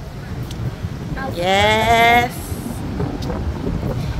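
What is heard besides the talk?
wind blowing into microphone outdoors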